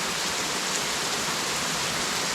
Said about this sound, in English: I think I should probably go, even though it's raining hard